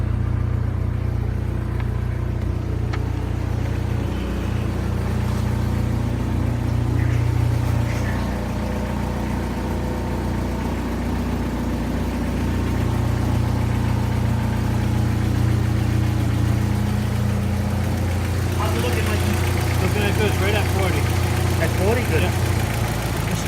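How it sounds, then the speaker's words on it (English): A cold Jeep Wrangler four-cylinder idles while warming up, holding a steady, close mid-pitched hum that swells a little partway through. People talk over the engine in places. "That sounds like a four banger."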